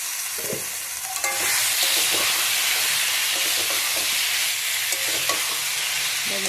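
Potatoes and raw jackfruit stir-fried in spiced oil for echorer torkari, a loud steady sizzle with scraping stirs and clinks of the spoon against the pan, no talk.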